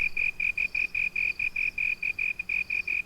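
A slender tree cricket calls through a pear-shaped hole cut in a leaf, giving a close, loud train of rapid, evenly spaced high chirps pulsing steadily throughout, with no voices.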